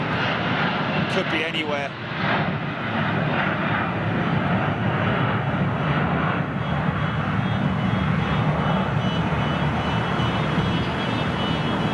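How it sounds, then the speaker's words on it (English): A Boeing 767 jet departs London Heathrow, its loud, steady engine roar filling the whole stretch while someone talks briefly over it near the start. "we're going to have the last ever 767 going out of London Heathrow"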